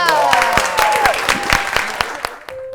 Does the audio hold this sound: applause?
yes